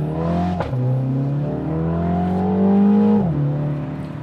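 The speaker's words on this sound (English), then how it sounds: "So a little more engine noise out of it, a little quicker to get the turbo spooled up" A 2022 MINI John Cooper Works Convertible with a turbocharged engine accelerates in sport mode, its engine note climbing steadily through two gear shifts with brief dips between, close and loud with no talk.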